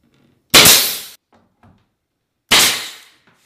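A nail gun drives nails into door casing, two sharp, loud pneumatic bangs about two seconds apart, each with a short decaying hiss, with faint handling noises between.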